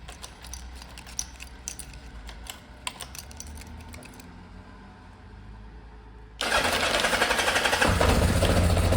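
Kawasaki Zephyr 750 four-cylinder motorcycle, quiet clicking and ticking at first, then the engine catches and runs loud and steady with a rough, broadband roar.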